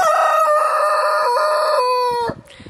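A rooster crows loudly and close by, one long drawn-out call ending in a falling note, followed by faint clucking.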